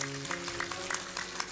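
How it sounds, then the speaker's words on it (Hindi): An audience clapping at a live Shrimad Bhagavat Katha gathering during the Maha Kumbh, a steady patter of many hands under sustained musical tones. "एक बेर कनी हुनकर आयोजन के लेल सब गोटे ताली बजा दियौ।"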